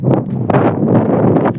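Loud, gusty wind buffets the microphone outdoors in a rough, continuous roar with brief surges and faint rustling.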